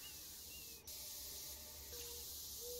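Spray paint hissing in short bursts while tagging graffiti in the video game Postal 4, quiet and close over a faint hum of background ambience.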